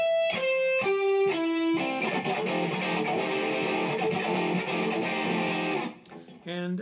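Electric guitar playing the interlude of a song, a few picked single notes leading into a dense, driven strummed passage that rings on steadily before a brief pause and a final chord stab.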